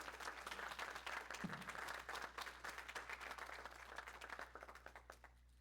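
Sustained applause from a conference audience after a talk on water treatment, steady and fairly loud, thinning and fading out over the last second.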